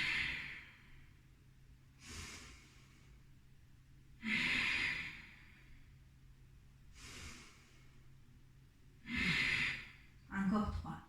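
Deep rhythmic breaths during a Tibetan Rites yoga routine, with five airy inhale-exhale bursts spaced about two seconds apart. They sound close but fairly soft over a low steady hum, with no talking between them.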